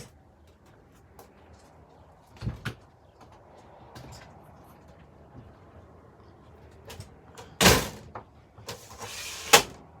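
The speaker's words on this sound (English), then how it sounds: "Let me open up the door." The door of an Airstream 22FB travel trailer is opened, giving a few sharp clunks and a rattling latch, loudest near the end, against a quiet interior with faint background sounds.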